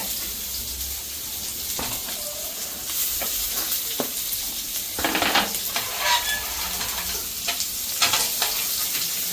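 Oysters frying in very hot oil give off a loud, close, steady sizzle, with bursts of louder crackling and spattering partway through and no speech.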